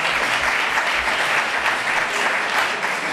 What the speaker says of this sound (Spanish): un aplauso a Diego